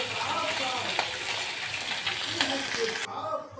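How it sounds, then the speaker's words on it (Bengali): Small fish frying in hot oil in a pan, a steady close sizzle running throughout with a few faint clinks. "একটা একটা করে মাছগুলো আমি উল্টিয়ে পাল্টিয়ে ভেজে নিব"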